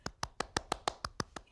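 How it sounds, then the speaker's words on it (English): Nine crisp hand claps in an even, brisk rhythm, close and fairly quiet, with no talking. "I'm clapping my hands."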